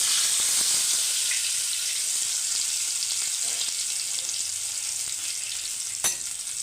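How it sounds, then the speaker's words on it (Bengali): Oil sizzling in a wok while making rui fish paturi, a steady close frying hiss with faint stirring and a brief clink near the end, no voices. "আমার এই কড়াইয়ে তেলটা দিয়ে দিচ্ছি।"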